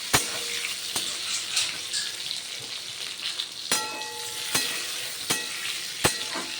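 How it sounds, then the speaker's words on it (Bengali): Pointed gourd frying in oil, with a steady sizzle interrupted by sharp clicks and scrapes of a utensil stirring the pan; no talking. "পটলগুলো ভাজা হয়ে গেছে কথায় কথায়, দেখুন।"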